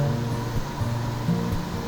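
Water from Maranun Falls in Natividad, Pangasinan rushes with a continuous broadband roar, steady and fairly loud, with no voices over it.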